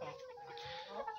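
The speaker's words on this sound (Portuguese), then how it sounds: "Olha aqui, que frango bonito aqui, ó." A free-range chicken or rooster clucks softly at close range, one continuous low call lasting about a second, with no people talking.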